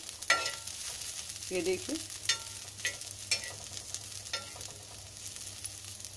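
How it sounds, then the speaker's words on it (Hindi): Onions and green chilies fry on a low flame in a pan, a soft steady sizzle with occasional stirring scrapes, close by, and a brief voice speaking near the start. "दो मिनट धीमी आंच पर तलने के बाद में"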